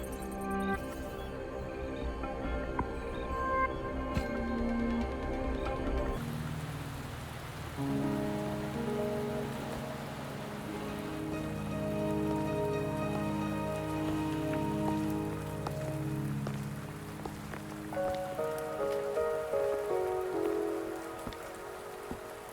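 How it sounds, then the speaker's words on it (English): Steady rain patters on surfaces in the video game Wuthering Waves, a constant soft hiss lasting throughout, with sustained musical tones underneath and no speech. "Don't worry, the rain won't last much longer."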